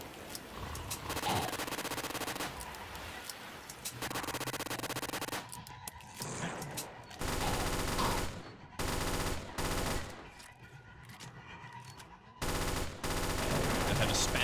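Rapid automatic gunfire and bursts of shots from the video game Final Stand 2, loud and dense, coming in long sustained volleys separated by brief pauses, with a little speech faintly underneath.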